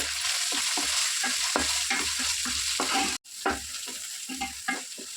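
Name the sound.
frying ginger paste, curry leaves, turmeric and onions in a pan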